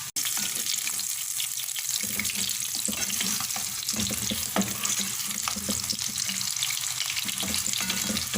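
Chicken koftas fry in oil over medium-low heat, giving a steady, dense sizzle and crackle that fills the whole stretch, with a few sharper pops and faint clinks as they are turned; no one speaks.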